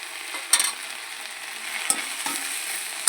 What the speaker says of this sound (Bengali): হলুদটাও ভালো করে মিশিয়ে নেব